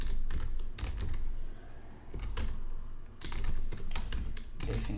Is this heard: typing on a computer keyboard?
yes